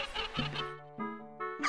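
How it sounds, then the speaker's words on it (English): Chickens in the video game Ocarina of Time, a few short clucking and warbling calls with tonal, stepped pitches, alone and fairly close. "That's a lot of chickens."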